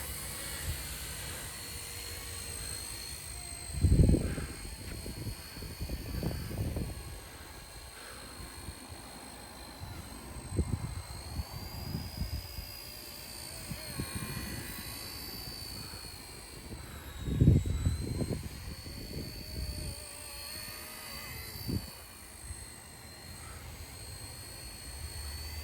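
An RC Era C032 UH-1 model helicopter lifting off in auto takeoff mode, a faint steady high motor whine with rotor noise, broken by a few louder thumps and bumps.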